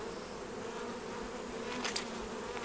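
Bees crowd a hive lid in summer, a steady close droning hum of many insects with a few brief sharper buzzes from individuals flying past, fairly quiet.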